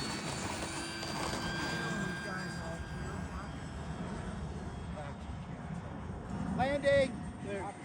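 A model biplane flies outdoors on a windy day, its small engine a steady buzz beneath broadband wind rumble, with a brief louder whine as it passes close near the end and voices talking throughout.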